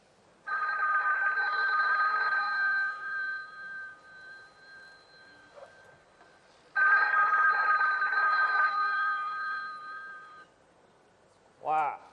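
A telephone rings in two long bursts separated by a pause, loud and close, followed by a short voice at the end, in a Shanghai opera performance.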